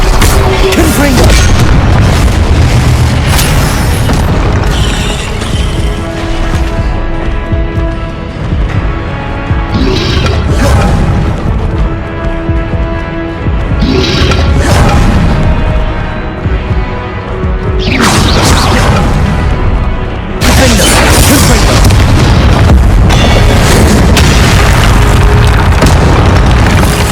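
Spell explosions from the Confringo curse in Hogwarts Legacy, heavy booming blasts and crashes that repeat through a loud, dense battle with continuous rumbling effects and a few brief lulls.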